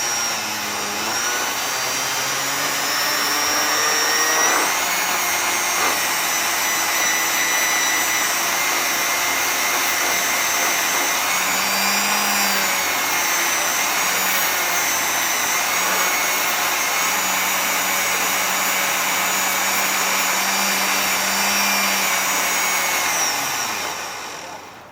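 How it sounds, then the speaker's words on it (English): A Compoflex wheel polishes a fire agate stone coated with paste, giving a loud, steady whirring grind. It holds without a break for the whole stretch, with faint pitch shifts where the stone presses into the spinning wheel. "amount of paste on the stone and work with the Compoflex wheel"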